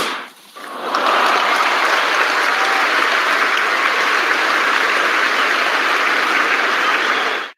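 Applause breaks out after a brief quiet start, becoming a full, steady wash of clapping that stays loud and even until it cuts off abruptly.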